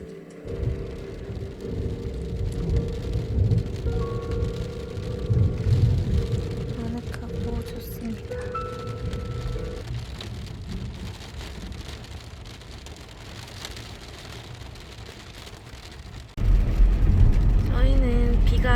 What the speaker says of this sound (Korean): 비가 꽤 많이 옵니다